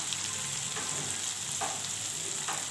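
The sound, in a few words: spices frying in a pan with turmeric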